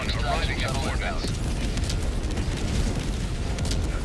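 Orbital strike explosions in Helldivers 2, a dense, loud rumbling barrage of blasts running without pause, with the low booms rolling into one another.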